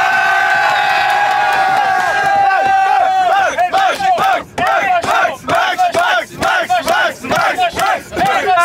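Crowd cheering and shouting for an applause-meter vote among a group, a sustained loud roar of voices with rhythmic chanting whoops and claps, close and energetic throughout.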